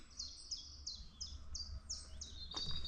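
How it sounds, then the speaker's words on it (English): Woodland birds sing a quick series of about eight bright, repeated chirps, fairly faint against a quiet outdoor background with no talking. "it's just glorious woodlands and the bird song"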